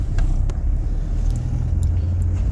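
Low, steady engine rumble of a car on the road as a first-time learner driver pulls away, close and constant inside the cabin with faint clicks.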